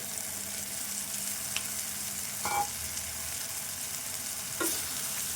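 Soya chunks (meal maker) frying in spiced oil for a masala curry, a steady soft sizzle running throughout with a couple of brief clinks from stirring or the pan.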